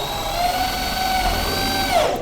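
A power drill drives Pro VTech screws into a panel, making a steady high whine that holds at one pitch for about two seconds and then spins down, close and loud, with no talking.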